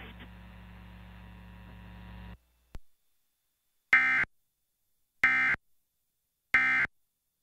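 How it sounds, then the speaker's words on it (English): Emergency Alert System test on an Iowa station: a low hum ends abruptly, then three identical sharp, loud digital bursts sound about a second apart, separated by silence. "This is a test of the Iowa Emergency Alert System"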